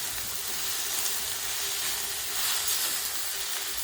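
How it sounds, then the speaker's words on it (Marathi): Spring onion greens sautéing in a pan with crushed green chilli for Vidarbha-style baingan bharta, a steady soft sizzle and hiss with no talk. "कांद्याची पात छान मऊ होईपर्यंत आपण याला परतून घेणार आहोत"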